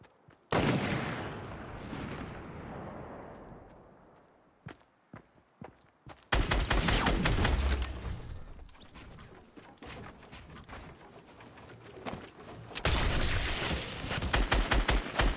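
Gunfire in the Fortnite battle royale game: a loud opening burst that decays, then scattered sharp single shots, followed by sustained heavy bursts of rapid fire that swell again near the end, with no talking.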